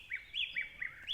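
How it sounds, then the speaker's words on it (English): A crow gives a short run of bright, repeated chirping calls, four or five quick notes in a row, close and clear over a quiet background. "But you said that you love to hear a crow sing"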